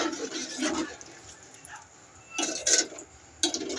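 A thick, sour tamarind okra stew (bendakaya pulusu) is stirred in a pot in a village kitchen, with short wet, sloshing scrapes coming in a few separate bursts and quiet gaps between them.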